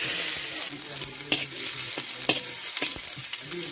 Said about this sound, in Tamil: நம்ம பொரிச்ச எண்ணெயிலே இப்போ நம்ம தாளிக்க போகிறோம்